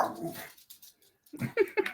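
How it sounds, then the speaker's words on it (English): A dog gives a few short, high whimpering whines, close and fairly quiet, with people talking just before them. "That's my dog."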